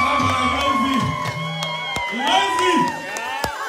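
Dense concert crowd cheering, whooping and shouting at a live music show by Edo act 24-bit in the UK, sustained and loud with scattered sharp claps and high yells throughout.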